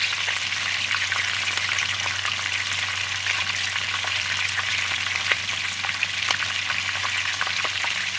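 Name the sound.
chow mein noodles frying in a pan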